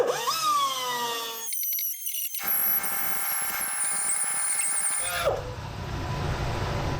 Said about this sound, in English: we'll just finish up with the flapper wheel on the die grinder to just smooth it off that little bit more